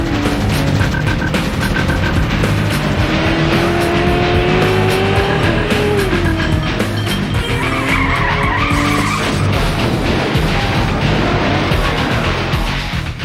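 SpyHunter 2 gameplay: the upgraded Interceptor car races along with a loud engine and repeated long tire squeals and skids, rising and falling pitch sweeps filling the whole stretch without speech.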